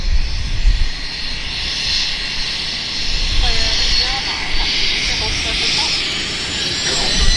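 Heavy jet airliners at Vancouver airport roar loudly and steadily in the open air, with a broad continuous engine rumble and hiss, and a voice talking faintly underneath.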